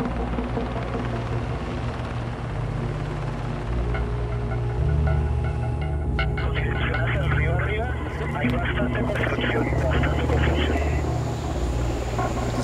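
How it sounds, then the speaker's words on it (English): Helicopters fly overhead near a laboratory, a steady low throbbing rotor drone that holds throughout, moderately loud and somewhat distant, with other faint activity over it. "Still hear the helicopters going above."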